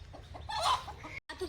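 Native country chickens on a farm cluck and call, with one brighter squawk standing out midway over a steady low rumble of outdoor background noise.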